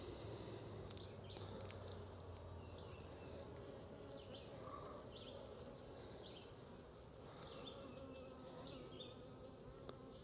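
Honeybees hum in an open hive as frames of brood and pollen are inspected, giving a dense, continuous buzz with individual bees whining past close by.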